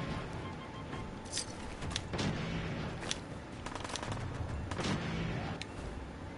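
Repeated heavy pipe pistol gunfire in the video game Fallout 4, sharp loud shots in irregular bursts over continuous combat noise, with no talking.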